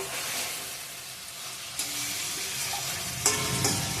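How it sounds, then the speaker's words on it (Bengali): Chicken pieces frying and being stirred in a pan of released juices, a continuous sizzle with occasional scraping and clinks of the spoon, close and moderately loud, no talk. "কতটা জল ছেড়ে দিয়েছে মাংসটা দিয়ে কষিয়ে নিব ভালো করে"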